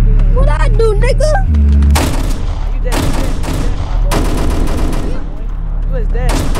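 Gunfire in the Roblox video game rings out in loud, close bursts of rapid automatic shots, with brief gaps between volleys and voices talking in the game over it.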